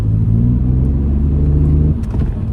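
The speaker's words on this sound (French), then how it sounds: "au niveau du son du moteur, c'est vraiment envoûtant" BMW Z3 with a 2.2-litre six-cylinder engine produces a loud, steady, low engine drone, heard from inside the roadster while driving, with no talking.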